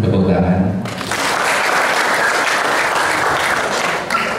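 Audience applause rises at a rice harvest field event in Trenggalek, a dense sustained clapping that takes over as a voice trails off at the start.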